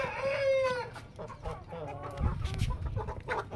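Aseel chickens on a poultry-keeping farm let out a long rooster crow, then a run of busy clucking and squawks. The birds are close and fairly loud, with no human voices.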